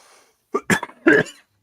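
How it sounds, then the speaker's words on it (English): Close, loud coughing: a short burst of three or four harsh coughs in quick succession, then silence. "Whoops, there's a persistent cough again."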